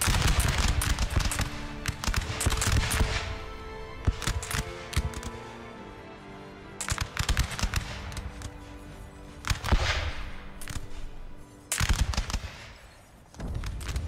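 Musket volleys crackle at close range in the Napoleonic battle game Napoleon: Total War, loud ragged bursts of many shots repeating irregularly, with quieter gaps between them.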